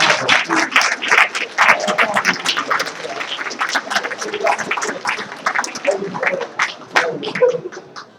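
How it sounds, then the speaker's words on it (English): Audience applause at a school board meeting, a steady spread of clapping from a room of attendees filling the whole stretch at moderate loudness. "Big round of applause."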